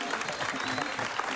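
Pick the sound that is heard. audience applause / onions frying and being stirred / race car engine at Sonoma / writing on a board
audience applause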